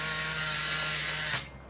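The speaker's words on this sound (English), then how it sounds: "The shutter is actually opening and closing, I can see it" A Polaroid SX-70 instant camera, being checked after a repair for an intermittent shutter fault, whirs mechanically in a continuous grinding buzz that ends with a single sharp click, close and loud.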